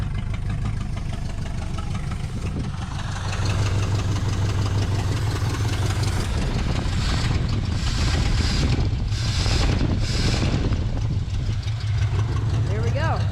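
An old Mercury outboard motor idles steadily and close by, its low rumble continuous throughout, with wind noise over the microphone.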